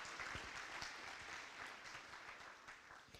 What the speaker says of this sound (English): So nice round of applause